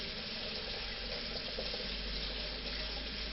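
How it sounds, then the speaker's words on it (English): Cold tap water runs steadily into a pot for chicken soup, a continuous close rushing pour with no voices. "And we're going to add water. We're not going to fill it, just make sure we get the cold water through."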